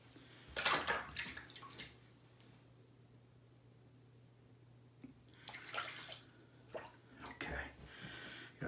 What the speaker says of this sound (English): Just emptying my cup here.